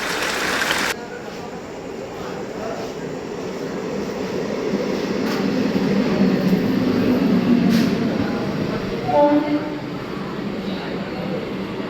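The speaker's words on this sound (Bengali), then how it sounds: "ওই যে তারকেশ্বর লোকাল ঢুকে গেছে।" A Tarakeswar local train pulls into Serampore station platform, a steady low rumble of wheels and carriages that swells slightly mid-way, with a brief squeal and ambient platform noise and voices around it.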